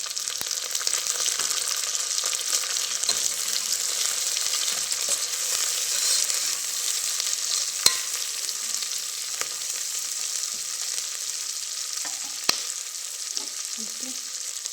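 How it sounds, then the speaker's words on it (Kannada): Green peas sizzle and fry steadily in hot ghee in a pan while ghee rice is being made, a constant close crackle with occasional stirring clinks and no talking. "ಮತ್ತು ಒಂದು 1/2 ಕಪ್ ಆಗೋಷ್ಟು ಬಟಾಣಿನ ತೊಗೊಂಡಿದ್ದೆ, ಅದನ್ನು ಹಾಕೋತಾ ಇದ್ದೀನಿ."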